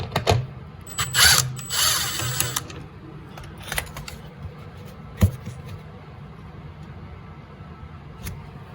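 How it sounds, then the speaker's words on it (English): Wrenching on mounting bolts of a Polaris 850 snowmobile chain case: a burst of metallic ratcheting clicks early on, then scattered sharp taps and clanks against faint background hum, no talking. "remove the mounting bolts, pry the case off to the side and let it drain through"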